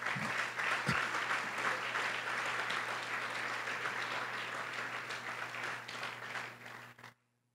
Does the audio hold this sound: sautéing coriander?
no